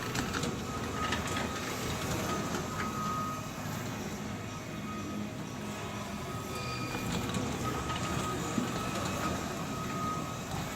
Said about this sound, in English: You'll notice as the machine rotates, there's a round bar extending off the front on the bottom.